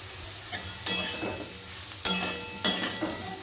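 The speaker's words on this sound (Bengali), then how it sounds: "হলুদ লবণটা দিয়ে কিন্তু এঁচোড়টা ভালো করে আমি ভেজে নিচ্ছি।" Raw jackfruit fries in a pan with turmeric and salt, giving a steady sizzle broken by several bursts of scraping and stirring, close and fairly loud.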